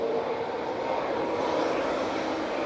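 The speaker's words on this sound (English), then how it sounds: "the Ryanair in front of me is now on the roll" Ryanair airliner on its takeoff roll, a steady broadband jet roar that holds level and fairly distant throughout, with no voices over it.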